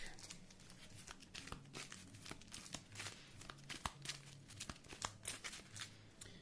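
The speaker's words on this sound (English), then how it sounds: "And now I have to shuffle these cards into the deck." Marvel Champions playing cards being shuffled into a deck, a close, dry run of rapid papery riffles and crinkling snaps that continue steadily with no talking.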